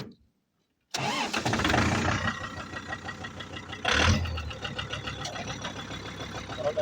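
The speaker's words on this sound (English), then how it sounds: "the turbo is just barely spinning right now." Turbocharged Kubota L4150 tractor engine running after a start, a steady mid-pitched diesel drone with a faint turbo whine, a brief louder surge partway through, close and without talk.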